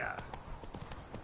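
Roach, a horse in The Witcher 3 video game, gallops in a quick steady clip-clop of hooves, close and continuous, under a rider's voice urging it on.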